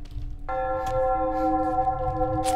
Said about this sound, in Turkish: yine geldi çan sesi